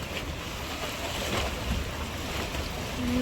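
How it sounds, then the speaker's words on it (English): Strong ocean waves breaking against rocks at a beach, a continuous loud roaring wash with heavy wind rumble and no distinct individual crashes. "You can see just right through the rocks, the waves are really strong."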